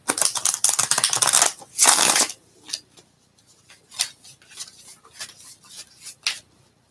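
Tarot cards being shuffled by hand: a dense riffling burst, a second riffle, then scattered light card taps and flicks, close and fairly loud.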